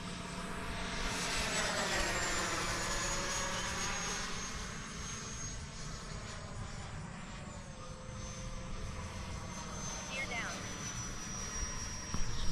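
A Freewing Intruder RC jet with an AvantiS v2 electric ducted fan, loaded with full ordnance and three fuel tanks, makes a steady high whine that rises and falls as it passes at a distance. A voice talks over it.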